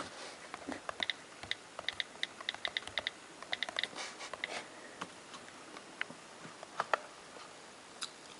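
Taps on an iPhone touchscreen keyboard while a password is entered, a series of light, quick clicks in short irregular bursts with pauses, close by and quiet.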